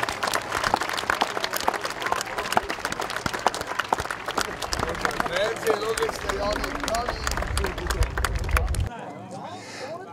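An outdoor crowd at a helicopter open day applauds the Eurocopter pilot, with sustained dense clapping mixed with crowd noise and voices, ending abruptly into quieter ambience near the end.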